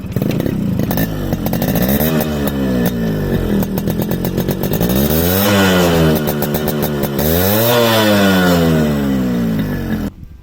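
A Yamaha RX100 two-stroke motorcycle idles and is revved repeatedly up close, its crackling, buzzing engine rising and falling in pitch across several sharp throttle blips, loud and alone without speech.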